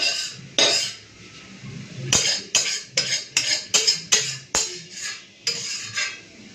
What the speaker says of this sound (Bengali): পুরো কড়া চেঁচে নিয়ে নিলাম